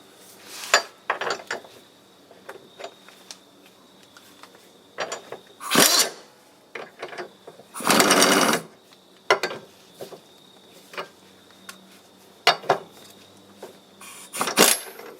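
A ratchet wrench with a 15 mm socket loosens tow hitch bolts on a 2004 Volvo XC70, giving sparse metallic clicks and ticks broken up by a few longer rasping bursts of ratcheting, close by.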